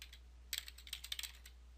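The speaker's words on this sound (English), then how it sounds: "just enter your school email address and click Submit" Keys tapped on a computer keyboard while an email address is typed on a login screen, a quiet burst of light rapid clicks after a brief pause, close and alone over a steady low hum.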